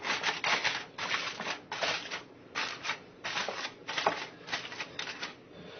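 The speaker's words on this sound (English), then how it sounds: "we line the bowl with the aluminum foil," Shiny aluminum foil pressed and smoothed into a bowl, a close, soft crinkling and rustling in irregular bursts, fairly quiet and heard alone.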